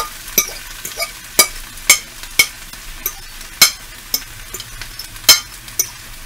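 Spinach cooks down in a pan until wilted, with sharp scrapes and clacks from a spatula stirring it at an irregular rhythm over a soft, steady sizzle close by. No one speaks.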